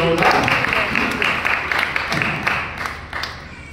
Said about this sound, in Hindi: आराध्या जैन के सम्मान में एक बार तालियां बजाइए